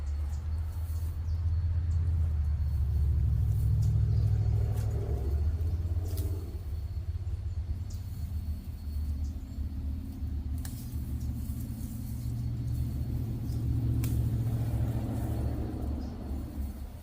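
Cars with loud, modified mufflers pass by on a street, producing deep rumbling exhaust that swells to a peak, fades, then builds again over about seventeen seconds, with faint ambient clicks and no speech.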